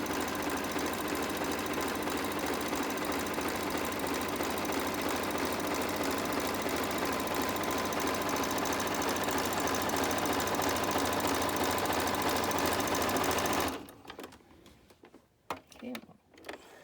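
A sewing machine stitches a rag quilt in a steady, fast mechanical whir for about fourteen seconds, then stops, leaving faint fabric handling and light knocks.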